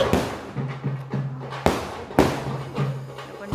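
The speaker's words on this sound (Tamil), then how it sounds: "சில வெடி நல்லா அழகாக போகுது, சிலது அப்படியே புஸ்வானமாக இருக்குது." Firecrackers go off close by in a quick series of sharp bangs and thuds over a steady low hum, some bursting well and some fizzling. A couple of the blasts stand out louder than the rest.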